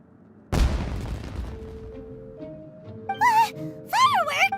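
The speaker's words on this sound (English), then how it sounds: "It sounded like fireworks." In Genshin Impact, a single loud firework boom is followed by a fading crackling tail. High whistling, rising tones and musical game sounds follow, with a sustained hum underneath.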